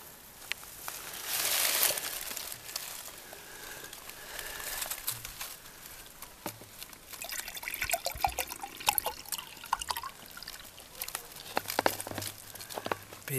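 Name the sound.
maple sap dripping into a container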